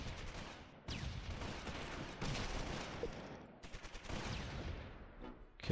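An MG machine gun in Close Combat fires bursts of rattling shots, fairly faint and distant, repeating over several seconds with no talk.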